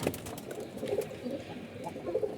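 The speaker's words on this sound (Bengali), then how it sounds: "কবুতরটা অনেক সুন্দর" A racing pigeon, one weakened from too much flying, coos in soft repeated low murmurs, close by, with faint rustling in the background and no talking.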